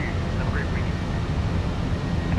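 Airbus A321 jet engines set to climb thrust just after takeoff in Microsoft Flight Simulator, a steady dense roar with a faint rising whine, and a voice talking over it.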